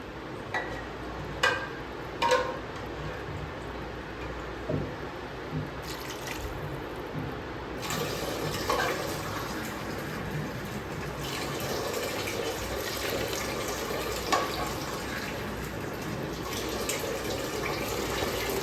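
A few clinks and drips, then water pours steadily from a tumbler into a pot of seeraga samba rice for mutton biryani, a continuous splashing flow that carries on to the end.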